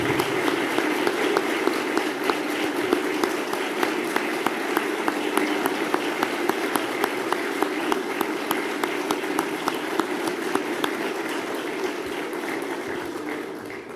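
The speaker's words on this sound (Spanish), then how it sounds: "Creo que el presidente se merece un aplauso mucho más fuerte." Sustained, dense applause from a large crowd at a government gathering in Casa Rosada for President Javier Milei, steady and loud for the whole stretch with faint voices mixed in.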